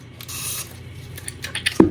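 A spray bottle mists alcohol into resin gnome molds: a few short, hissing spritzes in quick succession, close and clear, followed by a brief clicking knock at the end.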